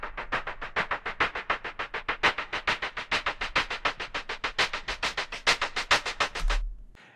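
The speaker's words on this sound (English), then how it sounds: "One of the things that I added to it was a low-pass filter that would slowly open up" Shaker loop in an electronic song build-up, fast steady rapid-fire hits with a low-pass filter slowly opening so the rattle grows brighter, loud and upfront, cutting off with a low thump.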